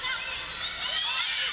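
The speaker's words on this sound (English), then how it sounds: "And the crowd really getting into this." A crowd cheers and shouts during a professional women's volleyball match between Choco Mucho and Galeries Tower, a bright, steady roar of many voices at moderate distance, sustained without break.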